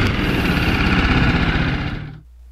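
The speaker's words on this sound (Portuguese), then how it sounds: "Esse é o som de escapamento." A BMW G 310 R single-cylinder naked motorcycle's exhaust runs loud and close with a steady, throbbing idle-like pulse, then cuts off abruptly into near silence just before the end.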